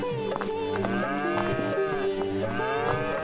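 A pair of bulls mooing, long drawn-out lowing calls that overlap and repeat, loud and close with no talk over them.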